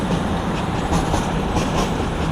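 CrossCountry class 220 Voyager 220026 departs Doncaster, giving a loud, continuous roar of engine and rolling wheels close by, with no voices.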